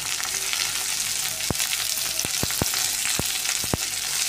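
Spring onions and dry spices sautéing in hot oil, a continuous loud close sizzle punctuated by several sharp spatula taps against the pan at irregular intervals.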